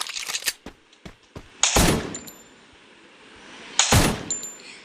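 Gunfire in the Free Fire mobile game: a rapid burst of sharp shots at the start, followed by two loud, heavy single shots with ringing, metallic tails, close and prominent with no talking.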